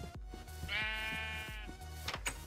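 Sheep in the video game Minecraft bleat in short repeated cries, one drawn-out bleat in the middle, over a steady game background with no talking.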